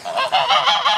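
Toulouse geese honking close by, several quick overlapping nasal honks in a short burst with no other sounds.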